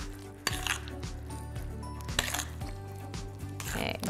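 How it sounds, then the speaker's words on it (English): A spoon scrapes and clinks in a bowl while a potato mixture with onions, salt and pepper is stirred for funeral potatoes, with close, uneven scraping and a few sharp knocks. "we're just gonna mix this up just a little bit"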